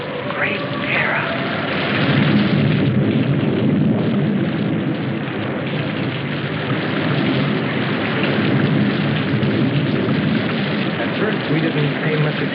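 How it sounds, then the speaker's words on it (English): A heavy film thunderstorm pours down as a dense, continuous roar of rain, with deep thunder rumbling low beneath it throughout. "We didn't pay much attention to the rain, though it seemed heavier than any rain we'd ever seen."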